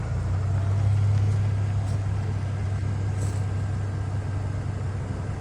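A 2010 Mercedes-Benz E350 engine holds a steady low hum at close range as the car pulls up onto ramps, its even drone unbroken and without voices.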